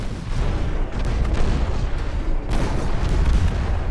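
Naval gunfire from old pre-dreadnought battleships in the Ultimate Admiral Dreadnoughts game, a dense rolling rumble of heavy booms with repeated louder blasts, continuous and loud throughout.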